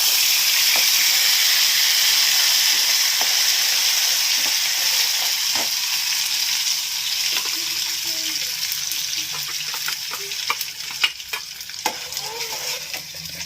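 Ground spice paste fries in a hot pan for paneer gravy, a steady bright sizzle running throughout with occasional stirring scrapes and clicks of a utensil growing more frequent toward the end.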